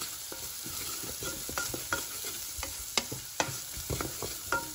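Ingredients frying in butter are stirred in a pan before mushrooms go in for a mushroom soup, giving a soft sizzle broken by repeated sharp scrapes and clinks of the utensil.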